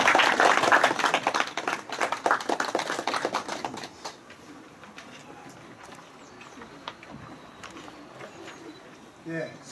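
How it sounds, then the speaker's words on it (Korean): Audience applause welcoming a speaker at an academic lecture, dense clapping for about four seconds that thins out into scattered claps and room noise. "네, 큰 박수로 모시겠습니다."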